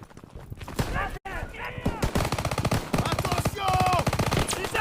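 Rapid machine-gun bursts from a World War II battlefield in Call of Duty WWII, loud and close with repeated staccato rattles, layered with in-game shouting and other combat noise throughout.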